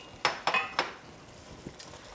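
Beef, minced garlic and sliced onions tossed in a pan produce three quick clattering scrapes and clinks close together, then a faint knock and a light rattle over quiet background.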